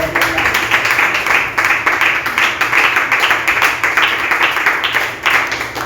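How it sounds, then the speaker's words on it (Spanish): A church congregation claps loudly and rhythmically in praise during a Spanish-language fasting-week service, a dense, close, steady pulse of many hands with faint voices mixed in underneath. "Brindele un aplauso al Señor."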